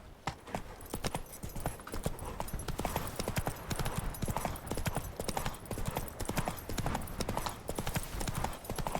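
Hooves of Roach, Geralt's horse in The Witcher 3 video game, clip-clop in a rapid, steady galloping rhythm close by, loud and continuous for the whole stretch.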